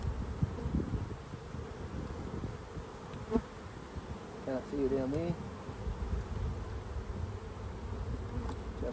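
Steady buzzing of many honey bees pouring out of an opened hive during inspection fills the background throughout, with a person speaking briefly over the hum.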